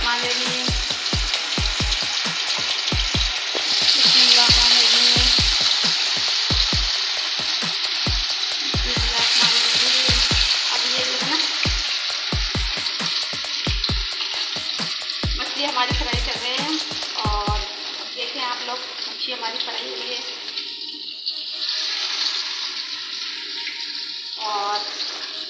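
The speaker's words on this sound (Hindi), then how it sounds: "ये मछली फ्राई कर रहे हैं हम" Fish sizzles and crackles loudly in a hot pan, the frying steady with bursts of spattering. Rhythmic tapping stirs it, and near the end the hiss softens and water runs in the background.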